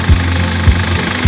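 Idling car engine during an alternator test with the battery terminals disconnected, keeping a steady low hum broken by three regular heavy thumps, close and loud.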